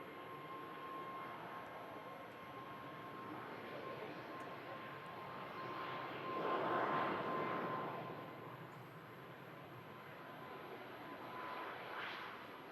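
An Icelandair jet departs Manchester Airport from runway 23L. Its distant engine roar rises to a broad swell midway through, then fades to a steady rumble, with a brief lift near the end and no talk.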